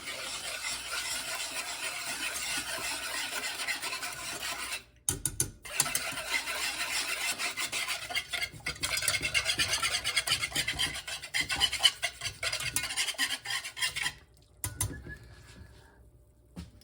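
A whisk scrapes rapidly and continuously against a pot of ham loaf glaze brought to a boil, a loud rasping metallic churn with two brief pauses partway through.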